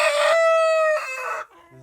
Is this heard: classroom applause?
no